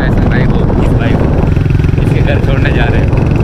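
A motorcycle rides along a station road in Shuja Abad. A steady engine drone and road rumble fill the clip loudly and continuously, with people talking over it.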